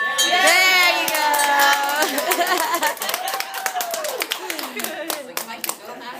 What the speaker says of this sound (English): We're going to keep clapping for me.